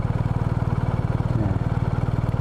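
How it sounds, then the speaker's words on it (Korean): A BMW R1250 RT motorcycle engine idles with a steady, rapid low thumping pulse, loud and close, with no voices. "배기음인데 생각보다 소리가 커요. 엔진 소리가."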